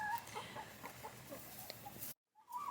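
Backyard chickens clucking softly and steadily at close range, a string of short low clucks under faint ambient noise, then a brief dropout before the sound resumes.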